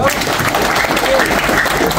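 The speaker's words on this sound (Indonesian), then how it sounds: "Tepuk tangan dulu dong." Steady applause from a crowd fills the whole moment, a dense wash of clapping at close range.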